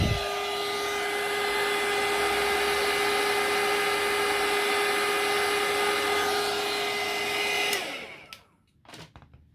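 A heat tool blows steadily and loudly to melt embossing powder, a continuous airy whir with a high whine that runs for about eight seconds, then cuts off and leaves a few faint handling noises.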